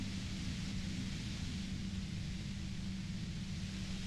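Steady hiss of white noise from a radio in the Disco Elysium video game, a constant even wash with a low hum beneath it, held unchanged throughout.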